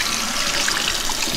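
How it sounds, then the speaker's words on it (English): Cold water runs and trickles steadily outdoors while a tie-dyed cotton tee is rinsed out, a continuous close splashing wash with no talking. "rinsing it out outside with some cold water real quick"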